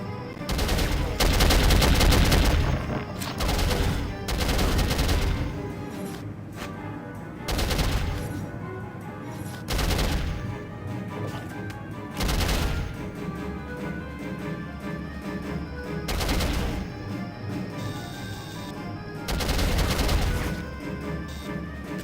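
Loud bursts of gunfire and machine-gun fire from the PC shooter Soldier of Fortune, repeated volleys with crashes and impacts coming in waves throughout.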